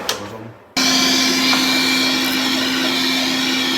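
An extractor fan switches on abruptly and runs as a loud, steady whir with a constant hum during a boiler smoke bomb test, alone with no talk.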